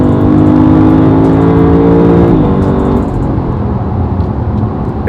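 A Lexus LC500 accelerates hard from inside the cabin, its engine revving loud and steady as pitch climbs, then drops at an upshift and pulls on, with no talking.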